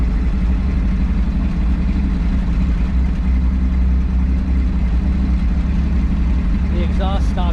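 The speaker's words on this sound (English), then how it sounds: "There she's idling." Rough idle of a 1968 GMC pickup's V6 engine with a short exhaust ending behind the cab, a dense continuous low rumble, loud and close, with a brief voice near the end.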